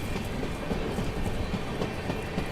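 Goa Rajdhani Express rolling slowly on rails near Bharuch, a steady close rumble with rhythmic wheel clatter throughout, no voices.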